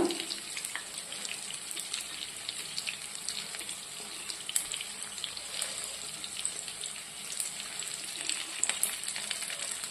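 Unniyappam batter frying in hot oil in a multi-cavity pan, a steady close crackling sizzle with fine bubbling pops throughout and no talking.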